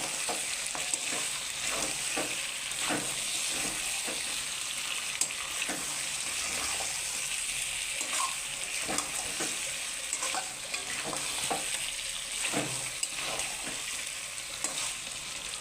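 Fried potato and papaya pieces are stirred into a pot of mutton curry that has released its oil, making a steady close sizzle broken by scraping stir strokes throughout, with no voices.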